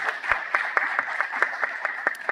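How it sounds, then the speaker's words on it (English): Sparse audience clapping for awardees in a conference room, a smallish group with distinct individual claps, close and moderately loud, no talk. "let's give them a round of applause"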